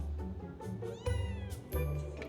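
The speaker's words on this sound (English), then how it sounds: "I have never in my life seen a cat this tiny" A tiny kitten named Samir meows repeatedly and loudly, a run of high, close cries with short pauses, two of them drawn out and strained like a wail.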